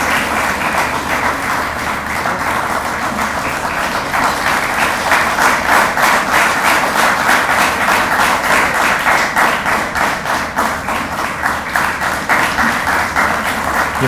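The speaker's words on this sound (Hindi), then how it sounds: "तालियां को जोर कम नहीं पड़ना चाहिए," A large audience at an award ceremony breaks into dense, continuous applause that stays loud and full throughout, with a faintly rhythmic pulse emerging midway.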